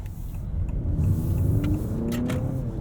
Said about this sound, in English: You can hear there we've got some simulated shifts going through the gears.